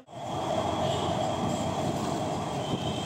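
A metro train at Narayanaguda metro station, Hyderabad, gives a loud, steady rumble with a sustained high whine, constant for about three seconds and heard alone without voices.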